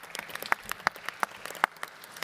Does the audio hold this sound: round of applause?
yes